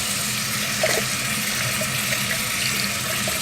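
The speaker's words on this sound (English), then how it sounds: "Just going to rinse it off one more time to make sure that I got everything" A makeup brush is rinsed under a running faucet, giving a steady hiss of water with faint splashing from the sink and no voices.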